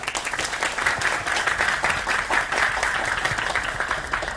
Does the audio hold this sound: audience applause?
yes